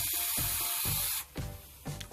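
Commercial spray starch misted from a can onto fabric in a quilting appliqué project, a long steady hiss followed by two shorter bursts, close and alone.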